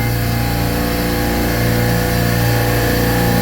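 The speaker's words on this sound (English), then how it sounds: "that's with every compressor running" Six R22 refrigeration compressors on a glycol skid all running together, a loud, steady, continuous mechanical drone and hum with no pauses.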